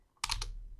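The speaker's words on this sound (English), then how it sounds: "we're going to type in a company" A short burst of computer keyboard typing, a few quick keystrokes clustered close together before the sound trails off, with no voice over it.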